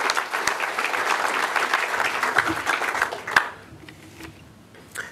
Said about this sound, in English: So please, a round of applause for Citizen Click and Aggressive.